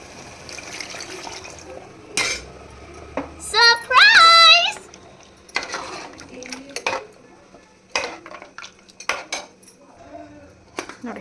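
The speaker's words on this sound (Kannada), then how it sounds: "ಇವಾಗ ನೀರು ಹಾಕ್ಕೊಳ್ಳೋಣ." Water is poured into a cooking pot while mutton chops are being made, after the masala has been fried in oil. It gives a short splashing gush among metal utensil clinks and kitchen clatter, with someone talking around it.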